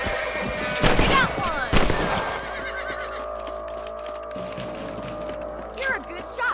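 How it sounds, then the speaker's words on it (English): Rifle shots ring out in the Western video game Red Dead Redemption during a rabbit hunt, two loud sharp cracks about a second apart, followed by quieter game ambience and a fainter shot later, with character dialogue in the background. "You're a good shot, Mr. Marston. Them rabbits didn't stand a chance"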